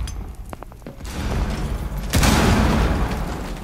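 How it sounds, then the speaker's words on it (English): A grenade goes off in a video game as a broad, loud burst that follows a few scattered clicks and thumps, then lingers as a sustained rumble. "Grenade."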